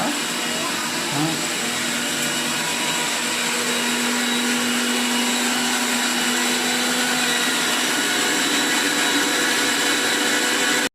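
A mixer grinder runs continuously, grinding masala for chicken biryani in a home kitchen, a loud steady whirring drone with an even motor hum throughout.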